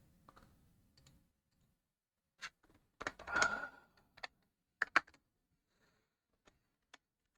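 Keys on a computer keyboard are tapped in a few sparse, uneven bursts with quiet gaps in between, soft and close, and no one is speaking.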